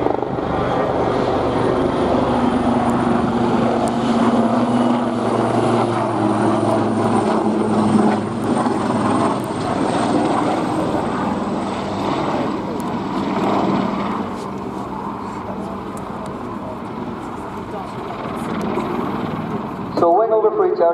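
Two Royal Navy Westland Wildcat helicopters flying a display at RIAT 2016, a loud sustained rotor and turbine roar that swells and shifts as they close on each other, continuous throughout.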